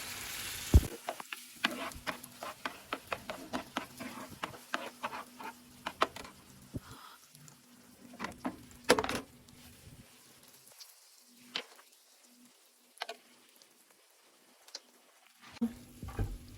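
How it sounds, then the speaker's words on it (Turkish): Two tablespoons of butter added to caramel sauce for trileçe, crackling and sizzling in the pan while being stirred, with scattered clicks and scrapes of the spoon, close and fairly quiet. "Şimdi 2 yemek kaşığı tereyağımızı ekliyoruz."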